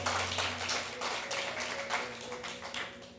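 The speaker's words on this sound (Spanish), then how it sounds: "denle el aplauso al Señor" Church congregation applauding, a steady wash of many hands clapping at low volume, with voices faintly mixed in.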